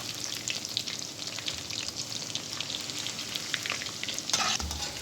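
Chicken hot shot pakoras frying in hot oil, a steady dense crackling sizzle with bubbling pops, continuous and close, with a brief louder burst near the end and no talking.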